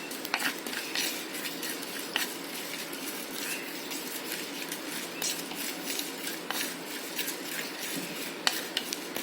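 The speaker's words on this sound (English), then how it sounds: "It won't take much time to roast the cumin seeds." Cumin seeds being dry-roasted in a pan, with a light crackle and frequent quick scrapes and clinks of a spoon stirring against the metal, close and steady throughout.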